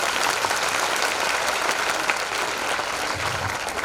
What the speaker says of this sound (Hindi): बार जोरदार तालियां